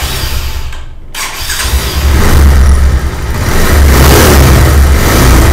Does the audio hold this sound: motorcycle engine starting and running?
yes